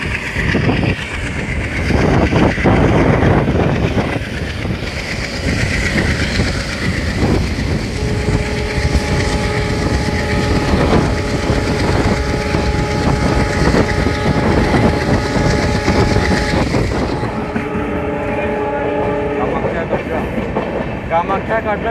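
The 14205 Ayodhya Cantt–Delhi Express, running with LHB coaches, rolls along with a loud, continuous rumble and rhythmic wheel clatter heard from on board. Tonal whines come and go over the steady noise.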